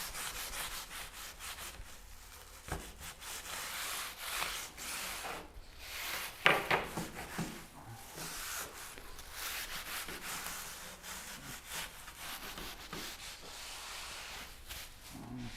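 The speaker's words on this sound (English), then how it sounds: "Time to burnish." A wooden stick of molding being burnished by hand, a continuous close rubbing and scraping in repeated back-and-forth strokes, soft and steady with one brief sharper scrape partway through and no talking.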